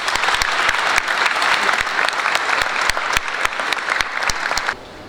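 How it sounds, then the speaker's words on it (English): Applause from a graduation ceremony audience, dense and loud with sharp individual claps standing out, sustained for several seconds before dropping off abruptly near the end. "So let's clap and celebrate the success of our graduates today,"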